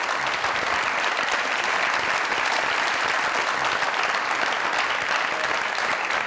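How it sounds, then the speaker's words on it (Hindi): Loud, sustained applause from a studio audience at a comedy talk show, a dense, even wash of clapping that holds steady from start to finish with no talk over it. "जोरदार ताली।"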